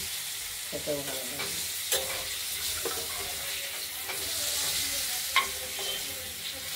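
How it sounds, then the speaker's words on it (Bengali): Potato pieces frying in a pan with a steady sizzle, broken by a few sharp clinks and scrapes as they are stirred. "আলুগুলো ভাজা চলছে।"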